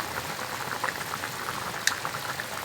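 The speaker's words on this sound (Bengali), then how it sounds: "দেখেন এই তরকারি বলক হয়ে আসতে" A Bengali fish curry with taro stems comes to a boil in a pot. It gives a continuous soft bubbling and light crackling at moderate loudness, with one brief sharper tick partway through.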